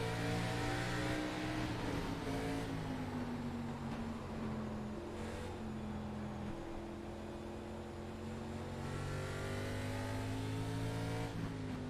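Race cars circle an oval track at Nashville Fairgrounds Speedway in a sim racing game, a continuous engine drone sweeping up and down in pitch as the cars accelerate and lift, fairly faint and steady throughout.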